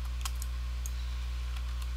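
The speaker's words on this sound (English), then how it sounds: "I'm really fucking up with the keyboard shortcuts trying to use one hand" Faint, scattered clicks of keyboard shortcuts being typed on a computer keyboard sit over a constant low electrical hum, a few sparse keystrokes spread across two seconds.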